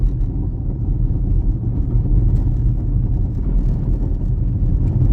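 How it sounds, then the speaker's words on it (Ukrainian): A Skoda Octavia Tour rolls along a rough field road, its worn front suspension producing a continuous low rumble and knocking from inside the cabin, steady and fairly loud. "Зараз якраз по польовій дорозі їду, дуже офігенно чути, як мене шурує передок"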